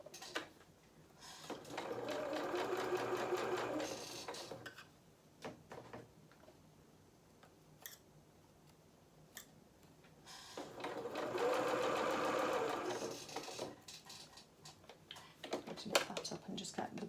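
A sewing machine stitches a hat for a holiday doll outfit in two sustained runs of rapid whirring, each a couple of seconds long, with quiet pauses and handling noises between them.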